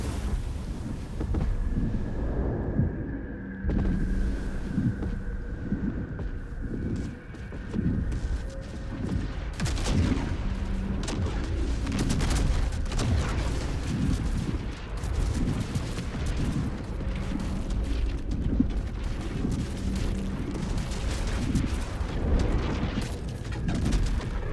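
Fire spell explosions in Baldur's Gate 3 build from a rising whoosh into a dense, continuous barrage of booming bursts and crackling blasts that stay loud throughout.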